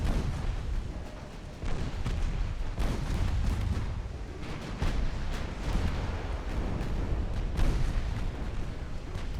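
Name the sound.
naval gunfire from cruisers in video game Ultimate Admiral Dreadnoughts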